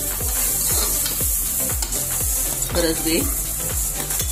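Beans and cauliflower frying with browned onion, tomato and garlic in a pan, a loud continuous sizzle with rhythmic stirring strokes roughly every half second.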